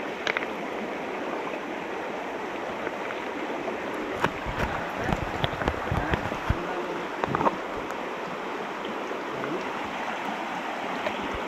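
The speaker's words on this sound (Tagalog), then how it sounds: "Malakas ang agos." A strong stream current rushes steadily and fairly loudly, with a few brief splashes and knocks near the middle and no speech.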